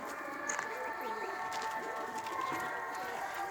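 A quite dirty pigeon, just freed from tape, gives soft repeated low coos close by against a steady background hum, with voices nearby.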